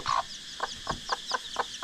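A chicken clucks close by: one sharper call, then a regular run of five or six short clucks spaced evenly, with no talk over them.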